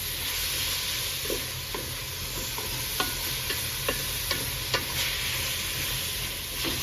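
Shrimp and other ingredients for ginataang langka sautéing in a pan, with a continuous sizzle and irregular light clicks of the spatula against the pan; close, with no voices.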